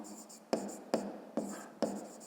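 A pen scratches across paper as a word is handwritten in a Ukrainian fifth-grade maths exercise. About four quick, distinct strokes are spaced through a quiet background, close to the microphone.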